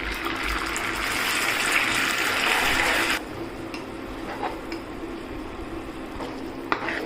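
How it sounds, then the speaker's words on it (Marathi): Water poured from a vessel onto jaggery in a pan for making sesame ladoo syrup, a steady close gushing splash for about three seconds, then quieter faint trickling and clinks. "पाणी टाकूया."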